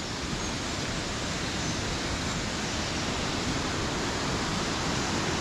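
Waterfall at Harmby roaring steadily, a loud, dense broadband rush of falling water close by, unbroken and with no voices.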